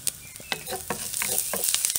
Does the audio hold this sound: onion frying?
yes